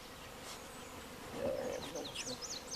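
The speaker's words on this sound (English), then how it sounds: "Now that will be some happy bees." Honey bees buzz around a horizontal beehive outdoors, a faint steady droning hum that swells slightly midway, with some bird chirps and brief faint voices in the background.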